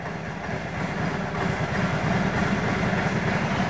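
A 1942 Harley-Davidson Flathead 45 motorcycle engine with forged pistons idles steadily up close, a continuous, slightly noisy low rumble that holds even throughout, with no voices.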